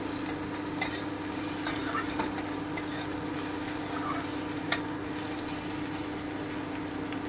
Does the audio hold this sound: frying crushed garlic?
yes